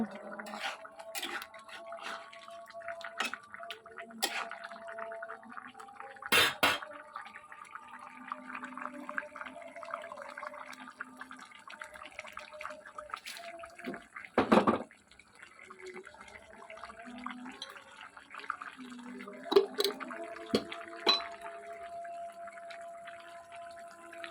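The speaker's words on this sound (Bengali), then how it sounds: "দেখুন এর মধ্যে ফুটে উঠেছে ঝোলটা ফুটে উঠেছে" A pot of fish-head and potato curry simmers on the stove, giving off soft, steady bubbling and light liquid ticks. A few louder splashes or clatters break in, and the whole sound stays faint.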